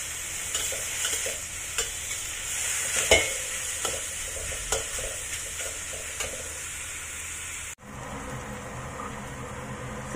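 Onions and garlic fry in a pan with a continuous hissing sizzle. Soft scraping stir strokes and light taps recur throughout, and near the end there is a brief dropout before the sizzle resumes.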